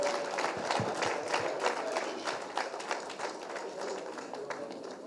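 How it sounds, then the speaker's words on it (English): Scattered clapping from an audience at a leadership conclave, fairly faint and distant, with a few louder claps standing out over steady crowd murmur. "Please welcome Sir with a very big round of applause."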